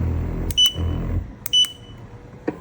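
Control unit of a KingPavonini Shiatsu foot massager with heat and air compression gives short electronic beeps as it is switched off and on, a pair of quick tones near the start, another pair mid-clip and one last blip, over a low motor hum.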